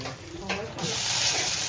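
Loud sizzling and hissing from a hot pan as chilies are tossed into oil for tempering, the spitting growing fuller and steady after a brief stir.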